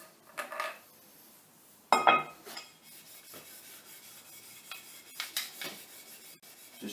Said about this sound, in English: So this is just a piece of aluminium we're using to lap on.